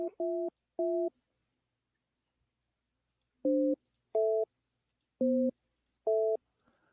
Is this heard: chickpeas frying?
no